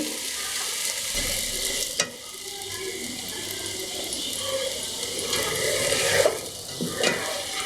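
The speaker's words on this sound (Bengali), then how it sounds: "আমি 10 মিনিট এভাবে ঘির উপর কষিয়ে নিব" Ash gourd fries in ghee over medium heat, giving a continuous close sizzle with occasional scraping stirs and a few sharper knocks of a utensil against the pan.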